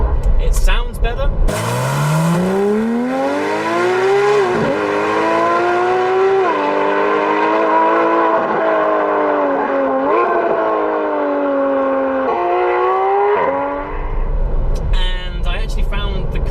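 A Porsche GT3 engine revs while driving, rising through the gears with sharp climbing pitch sweeps and brief dips at each shift, loud and close.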